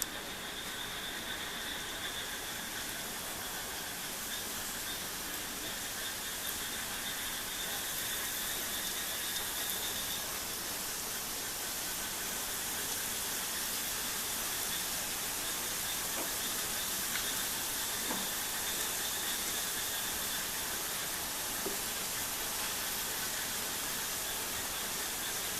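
Snacks made from wheat flour fry in hot oil in a pan, giving a steady, even sizzle and hiss that carries on unbroken, with no voices heard.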